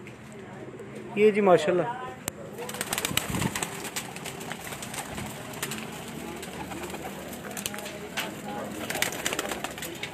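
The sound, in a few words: pigeons cooing on rooftop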